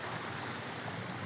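Strong floodwater rushes through a flood-control channel during rain, a dense, loud, continuous roar of turbulent flowing water with no pauses.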